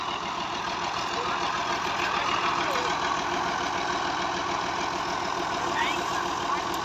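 1984 Massey Ferguson 240 tractor engine idling with a steady, even diesel chug, continuous and fairly close throughout.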